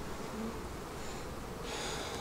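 Honeybees, nurse bees clustered on a popcorn brood frame in a queenless hive, hum in a steady, close, continuous buzz with no talk over it.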